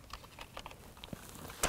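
Faint, quick keystrokes on a USB computer keyboard, a light irregular patter of clicks under steady background hiss, with no one speaking.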